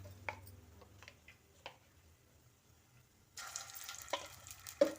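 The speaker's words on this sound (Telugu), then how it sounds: "అల్లం వెల్లుల్లిపాయ పేస్ట్ పచ్చివాసన పోయేంత వరకు ఫ్రై చేయాలండి." Ginger garlic paste fries for an eggplant curry, giving soft sizzling with scattered stirring clicks that swell into a louder, steadier sizzle in the last seconds, with no talk.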